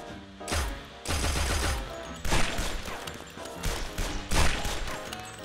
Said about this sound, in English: I do want to just shoot one thing with it.